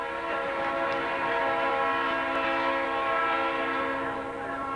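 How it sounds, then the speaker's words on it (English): A train horn blares in a long, steady, loud chord, held continuously as the train rumbles past nearby. "let's this damn train go by."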